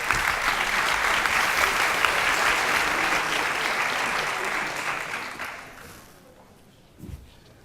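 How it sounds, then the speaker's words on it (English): A conference audience at the Agile Serbia event gives a full round of applause for a guest speaker, a dense sustained clatter of many hands that fades out near the end, followed by a faint thump. "Big round of applause, please."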